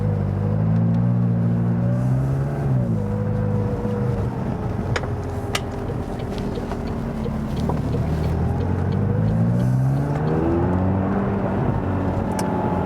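A McLaren sports car engine revs and drones through city streets, loud and steady, its pitch rising and falling as it shifts through gears, with a deep rumble underneath.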